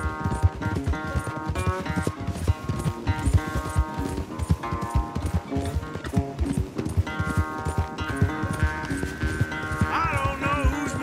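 Horses galloping in a race in the video game Red Dead Redemption 2: a steady run of hoofbeats sits under loud, busy orchestral game music, with a faint voice now and then.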